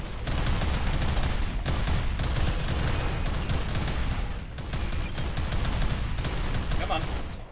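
Las cannons in the RimWorld game fire in a dense, sustained barrage of rapid blasts over several seconds, steady and fairly loud, with battle noise layered throughout.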